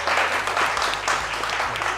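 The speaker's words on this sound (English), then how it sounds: "A round of applause." A crowd at a live Blood Bowl tabletop game event at Manchester Game Centre breaks into a round of applause. Dense, sustained clapping fills the room, loud and close, with faint voices mixed underneath.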